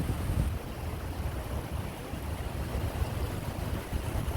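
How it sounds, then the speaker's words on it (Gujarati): Water flows continuously over a mossy, slippery surface, a close, steady rushing wash with no pauses across the whole stretch. "શેવાર છે, પાણી સતત જાય છે એટલે ચીકાશે એવી થઈ ગઈ"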